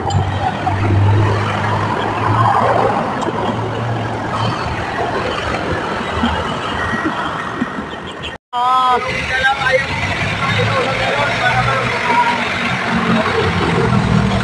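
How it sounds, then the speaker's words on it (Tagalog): A running Fuso 4M50 truck engine with a noisy compressor, a loud steady idling rumble close by, interrupted by a brief cutout before resuming, with people talking over it. "Yung compressor may ingay."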